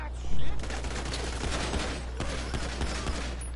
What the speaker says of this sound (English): 1013 shots fired at officers